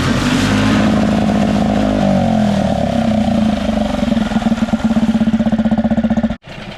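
A repaired outboard motor runs loud and close in forward gear, its engine drone rising as the RPMs climb, then settling into a rapid pulsing throb before a brief dip at the end.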